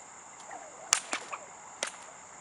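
A 4.5-foot whip cracks sharply several times, with one loud snap followed by a few lighter cracks and a final strong crack, clear and close against a quiet background.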